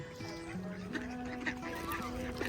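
Ducks being fed bread in Saint Petersburg, Russia, giving a few short honking quacks close by over a busy outdoor background.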